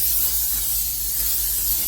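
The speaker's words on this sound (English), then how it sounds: "I'm going to spray them with some cooking spray" Cooking spray misted over zucchini slices from a can, a continuous close hiss held for about two seconds without a break.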